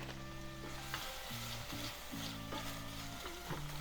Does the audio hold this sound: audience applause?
no